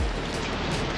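Steady rain patters on surfaces in a continuous hiss on a lobster-fishing cruise out of Portland, Maine, with no voices present.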